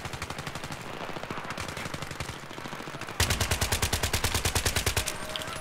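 Rapid automatic gunfire from Battlefield 3, sustained bursts of evenly spaced shots, with a louder, sharper weapon taking over partway through, close and dominant throughout.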